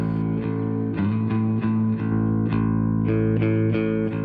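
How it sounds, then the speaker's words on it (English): A distorted, effected bass guitar with reverb plays a steady riff of repeated notes with a washy, lingering tail, loud and alone. "I'm purposely going for an affected bass sound"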